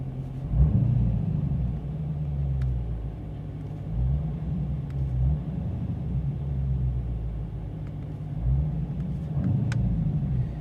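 A 2021 Dodge Challenger Scat Pack V8 idling with a deep rumble, throttle controller in normal mode, giving three or four short revving blips spaced a few seconds apart, close by with no talk.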